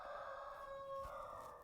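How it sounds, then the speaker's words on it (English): A rooster crows once, faint and distant, a single sustained call of under two seconds against quiet rural background noise. "was that a rooster crow?"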